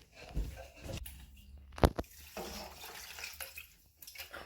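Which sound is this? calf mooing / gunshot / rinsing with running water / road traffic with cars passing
rinsing with running water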